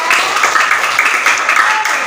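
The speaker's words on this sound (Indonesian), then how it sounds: "Tepuk tangan" Schoolchildren in a fifth-grade classroom clap together in a steady, dense patter of hands that stays even and fairly loud for its whole length, with no voices standing out above it.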